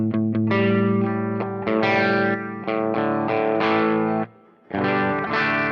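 Distorted electric guitar played through a Fractal AX8 modeler with the kicker boost switched off, sustained harmonic-rich chords and single notes ringing out loud and alone, with a brief pause near the end before the playing resumes.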